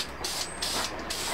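Spray paint hissing from an aerosol can onto the stock of a Tippmann Alpha Black paintball gun, a close, loud hiss in several short sweeping bursts with brief gaps between them.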